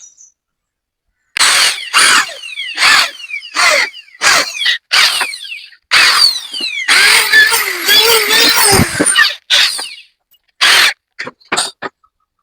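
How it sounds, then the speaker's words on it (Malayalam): A power drill drives screws into wood in a woodworking shop, sounding as a series of short, loud whirring bursts with brief pauses between them and a longer, denser run in the middle. "ഇനി നമുക്ക് ഈ അളവിൽ പിടിച്ചു വെച്ച് രണ്ട് സ്ക്രൂ കൂടെ ചെയ്യണം"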